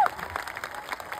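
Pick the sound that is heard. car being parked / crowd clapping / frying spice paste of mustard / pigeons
crowd clapping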